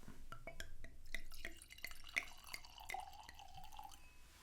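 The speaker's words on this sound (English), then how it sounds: "Let's go ahead and get the wine in the glass and see what we can suss out." DRG Pinot Noir red wine poured into a glass, giving soft dripping and trickling splashes with faint glassy clinks, quiet and close.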